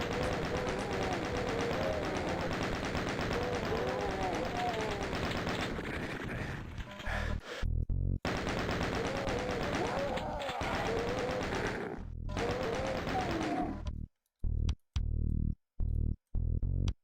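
Chaingunner enemies in DOOM II fire chainguns in long, loud, continuous rattling bursts, broken by brief pauses and a few short gaps near the end, with a voice talking faintly underneath.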